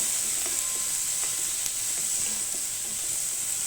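Curry leaves and turmeric powder fry in a hot pan, giving a steady, bright sizzle broken by light scrapes and taps of stirring. The sound is close and continuous, with no voices.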